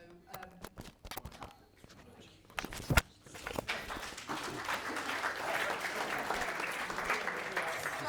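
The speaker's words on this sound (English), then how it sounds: "Feel free to do a slow hand clap as he walks." A roomful of people at a talent-sourcing round table gives a slow hand clap as a guest walks to the front. Sparse, separate claps come first, then merge into a soft, continuous wash of applause, heard at a distance and fairly quiet.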